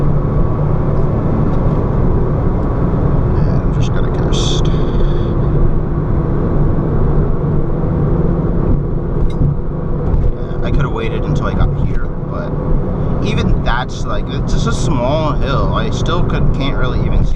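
A fast car accelerates hard through a blind corner on a personal time-trial drive, its loud engine droning steadily throughout with rising and falling tone, interior road noise and occasional wind rush.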